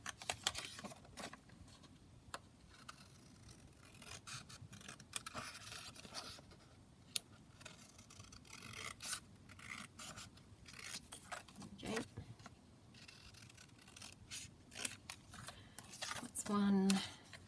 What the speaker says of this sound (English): I'll just cut out these couple of journaling cards as well